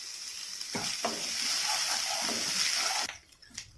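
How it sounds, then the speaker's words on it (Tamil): Chopped onion and curry leaves fry in a pan with a loud, dense, continuous sizzle and a few stirring scrapes, close up, cutting off abruptly near the end. "இதையும் நல்லா ஃப்ரை பண்ணி விடுங்க, கலர் நல்லா சேஞ்ச் ஆகட்டும்."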